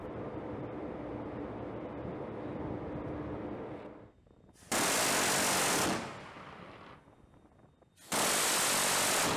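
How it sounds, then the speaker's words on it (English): A Phalanx CIWS close-in weapon system aboard the Nimitz-class carrier USS Abraham Lincoln fires two loud sustained bursts of rapid gunfire, separated by a rumbling lull, against steady background noise. "The demonstration consists of up to 3 bursts in both a high rate of fire and a low rate of fire from the Phalanx CIWS."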